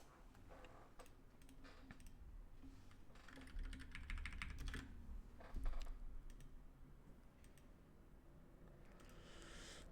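Typing on a computer keyboard: bursts of quick, close key clicks with short pauses between runs, faint and steady throughout, no speech.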